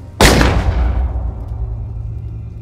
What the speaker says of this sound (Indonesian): ternyata itu adalah tembakan dari Anya Geraldine